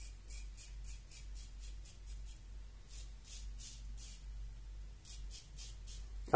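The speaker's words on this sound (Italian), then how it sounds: "si sente subito la lama scavare." Faint, rhythmic rasping strokes of a Treet Falcon blade in a Parker 96R razor scraping skin while shaving, repeated in short bursts over a quiet background.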